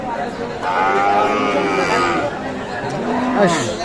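Cattle at a busy rural livestock market selling Sahiwal bull calves, with low lowing and restless animal calls mixed into a crowd of voices, people talking close by throughout.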